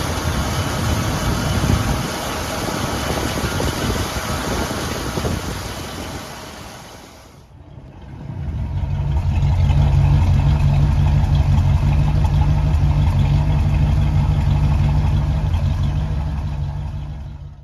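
Two Pontiac V8s, a 1965 Bonneville 421 and a 1971 Grandville 455, idle with a steady, rumbling burble; after a brief dip, a second, heavier idle settles in, loud and close, with no talking.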